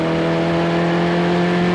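Formula Vee race cars at Amaroo Park in 1987, run flat out: a steady, loud engine drone with strong sustained harmonic tones, heard alone without talk.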